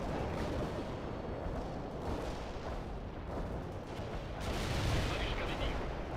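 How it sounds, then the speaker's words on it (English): Continuous rumbling barrage of artillery fire and explosions in the World in Conflict video game, dense and loud throughout, swelling slightly near the end. "Artillery strike is done"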